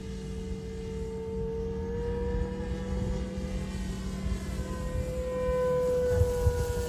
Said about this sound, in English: I'm flying a high wing plane right now